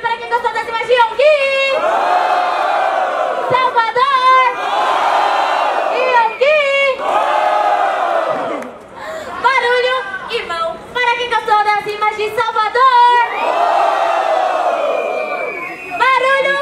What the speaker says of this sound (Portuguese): barulho pra quem gostou das rimas de Salvador